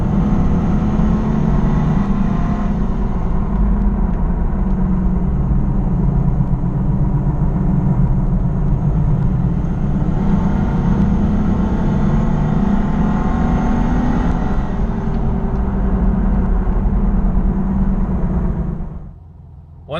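A Nissan Xterra's VG33 V6 fitted with Schneider Racing 131H grind cams runs in a steady, loud, low rumble with no shifts in pitch, then cuts off abruptly at the very end.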